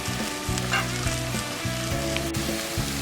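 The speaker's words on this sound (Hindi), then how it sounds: "ये मीडियम साइज़ का प्याज लिया है, इसको भी थोड़ा हल्के ब्राउन होने तक पका लेंगे।" A medium onion fries in oil in a pan until light brown, giving a dense, continuous sizzle up close. A rhythmic low droning pattern runs beneath it, with no talking.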